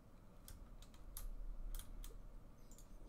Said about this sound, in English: So now, if you type in your code,